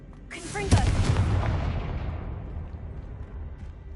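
An explosive Confringo spell cast in a Hogwarts video game bursts with a sharp booming blast that rumbles and slowly fades over a few seconds.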